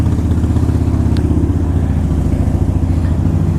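A 2005 Harley-Davidson Wide Glide with 67,000 miles idles close by, its V-twin engine thumping in a steady, loud, uneven lope throughout with no speech over it.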